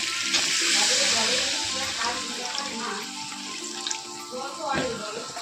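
Cauliflower and potato curry sizzling in a pan as water is poured in, a loud steady frying hiss with stirring clatter, a soft voice briefly heard beneath.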